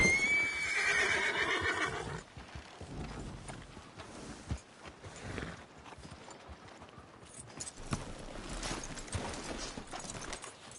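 A horse in a western video game whinnies sharply at first, then hooves clip-clop and shuffle about amid quieter ambient game sound, the neigh near and loud, the steps lighter.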